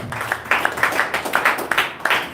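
A church congregation in Bafoussam claps in uneven bursts, with about ten sharp, close hand claps coming in quick succession.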